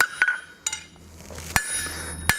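Four sharp, ringing hammer strikes land on metal during blacksmith forging, spaced irregularly with bright metallic decay between blows, close and clear.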